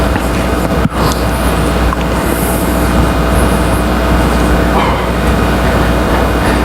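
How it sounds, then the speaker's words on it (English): A jigsaw running against a table to shake it makes a loud, continuous buzzing hum that holds steady throughout with a brief thump near the start. "next we are going to use a jigsaw to vibrate a table"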